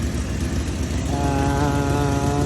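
Harley-Davidson motorcycle with its stock exhaust idling up close, a loud, steady, lumpy engine burble with a low throb and a rising harmonic whine partway through, no talk.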